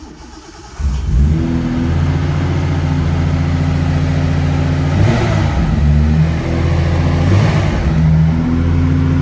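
A Nissan 280ZX with an L28 turbo engine fires up and runs at a steady, loud idle, with a couple of brief rev swells over the droning exhaust.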